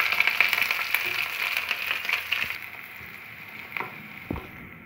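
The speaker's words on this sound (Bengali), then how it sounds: "এবার পেঁয়াজটা দিয়ে ভাজবো।" Chopped onion hits hot oil in a pan with ginger while an egg tadka is cooked. The sizzle is bright and steady, then settles, with a few clinks from stirring.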